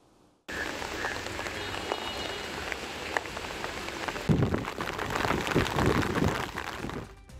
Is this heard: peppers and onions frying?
no